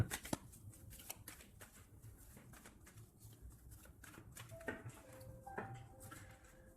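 Tarot cards cut and shuffled by hand, a run of crisp riffling clicks and soft slaps close to the microphone, moderately quiet with no talk over them.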